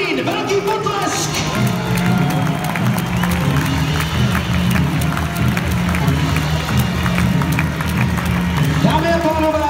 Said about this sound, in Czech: Velký potlesk!